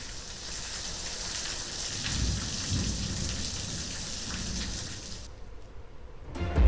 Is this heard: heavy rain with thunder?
yes